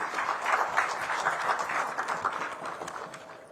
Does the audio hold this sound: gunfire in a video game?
no